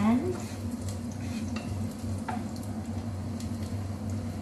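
Garlic frying in a hot pan: a steady close sizzle with occasional light utensil scrapes and stirring clicks, continuous throughout.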